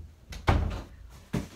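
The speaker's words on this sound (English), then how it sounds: "Let me shut the door real quick." A room door is pushed closed, a muffled thump followed a moment later by a second softer knock as it settles. Both sounds are close by, with no talking.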